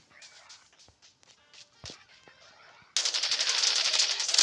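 Gunfire in the Call of Duty Mobile video game, with scattered game effects and footsteps, then a sudden loud sustained burst of rapid automatic fire over the last second and a half.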